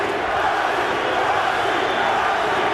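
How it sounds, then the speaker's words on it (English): Arena crowd at a boxing match between Marco Antonio Barrera and Prince Naseem Hamed, with English fans chanting as a dense, steady roar that fills the hall and continues without a break. "English crowd chanting Nazi, Nazi, Nazi."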